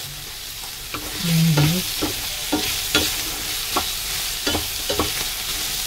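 Bitter melon and egg fry in a pan under a constant sizzle, with a spatula repeatedly scraping and knocking against the pan in irregular strokes; a brief hum and a short spoken remark occur early on.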